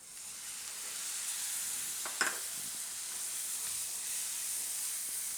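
Onions sautéing in oil in a pan with yogurt nearby, a steady soft sizzle and hiss with one brief clink of a utensil partway through.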